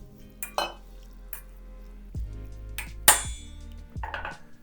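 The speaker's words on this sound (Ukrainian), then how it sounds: "Далі зачищену печінку перекладую в миску." Cleaned chicken livers are moved into a bowl, with scattered knocks, clinks and dull thuds of utensils and kitchenware at close range. A sharp clatter stands out near the middle.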